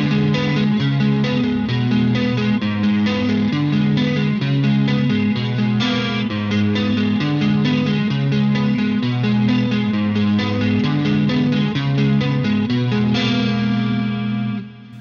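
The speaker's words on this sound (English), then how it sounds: "the crunch channel, and there the yellow mode, and it sounds like this." Marshall JVM410H guitar amp on its crunch channel in yellow mode, lightly overdriven, carries continuous rhythmic guitar chords at a steady level, played alone without speech.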